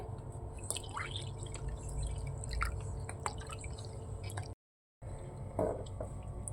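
A small splash of water trickles into buttermilk in a Gujarati kitchen, light dripping and pouring sounds close up that break off briefly before a final gurgle.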